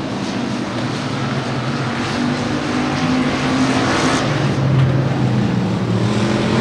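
Factory stock race cars roar around the oval at Kennedale Speedway Park, a dense, steady engine drone from several cars at once that swells slightly as they pass, heard from the stands with no voices.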